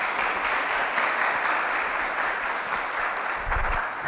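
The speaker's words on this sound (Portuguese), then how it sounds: "Uma salva de palmas." Sustained audience applause at a church family-week gathering, a dense, even wash of clapping that holds steady throughout.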